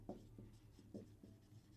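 A pen writes out a math solution on paper, giving soft, close scratching strokes in a quick uneven rhythm, each short stroke separated by brief pauses.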